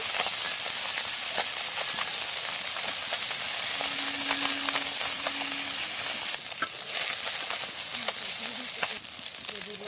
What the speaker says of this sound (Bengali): মাছগুলোকে আমি হলুদ নুন মাখিয়ে লাল লাল করে উল্টে পাল্টে ভেজে নেব